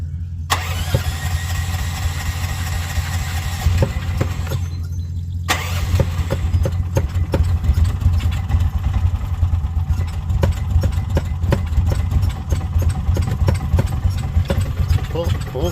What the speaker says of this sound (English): Let's see if the golf cart will start today.